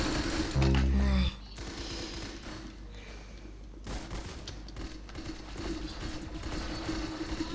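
A shooter video game fires a sharp, rapid burst of gunshots lasting under a second. Quieter game sounds and faint rattling follow.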